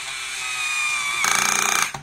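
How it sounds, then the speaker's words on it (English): A screwdriver drives a screw into a toy robot built from blocks, a rapid ratcheting whir that starts quietly and grows louder and rougher partway through before stopping abruptly, close and alone. "let's get the screwdriver and let's drill it up"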